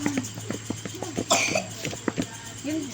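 A person coughs at home during an evening grill dinner, several short, close coughs in an irregular run, with background noise and brief voices.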